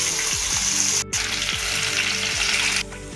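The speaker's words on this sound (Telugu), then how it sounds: "కొంచెం కరివేపాకు, ఆవాలు బాగా వేగాక ఇప్పుడు ఉల్లిపాయలు" Onions sizzling loudly in hot oil with curry leaves and mustard seeds for an Andhra-style fish curry, a steady close frying hiss with rhythmic scraping stirs and a brief dip partway through.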